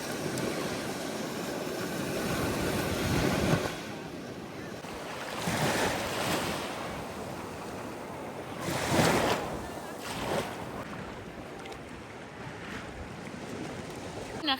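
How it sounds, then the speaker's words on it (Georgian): Mediterranean sea waves wash onto an Italian beach, a continuous surf roar with several louder breaking swells rising and falling, plus some wind buffeting the microphone. "ტალღების ხმებს უსმენ"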